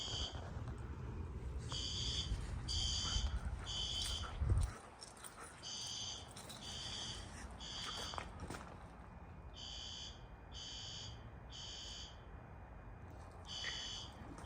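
Building fire alarm sounding during a monthly test, a loud electronic horn pulsing in repeated short bursts with gaps, while a dog whimpers and faint handling noises come from nearby.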